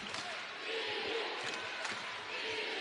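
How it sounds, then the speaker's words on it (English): Basketball crowd at Foster Pavilion during a tense late-game possession in a Baylor women's game against Kansas, a steady broad roar of cheering with faint sneaker and ball thumps, sustained and fairly loud throughout. "Crowd on their feet here in Foster Pavilion."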